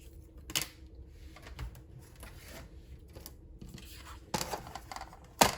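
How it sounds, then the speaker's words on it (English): Scissors cut through paper and cardstock while a tri-fold pocket and tag folio is made for a junk journal, giving a few sharp snips and scrapes in a quiet room, with the loudest cuts near the start and end. "we're going to need to cut here"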